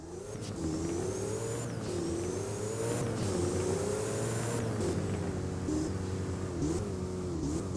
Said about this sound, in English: now here is the car driving on the road.